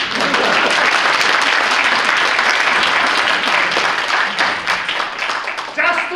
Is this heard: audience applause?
yes